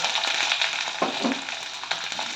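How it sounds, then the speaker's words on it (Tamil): Shallots and cashews fry in hot oil for mutton chukka, giving a steady close sizzle with faint stirring clicks and no talk. "சின்ன வெங்காயம் கட் பண்ணதை போட்டுக்கலாம்"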